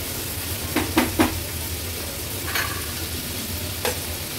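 Chopped capsicum and tomato cooking on a high gas flame in a pan, a steady close sizzle and hiss with a few clinking scrapes of a spoon stirring the vegetables.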